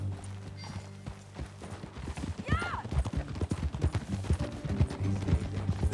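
Rhythmic hoof clip-clops of a horse at a steady trot in Red Dead Redemption 2, with a brief whinny partway through and a low background hum.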